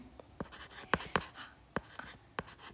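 Pen writing notes on paper or a board during a class on Haryana's agriculture: scattered sharp scratching strokes and taps, close and fairly faint, in an irregular rhythm without talking.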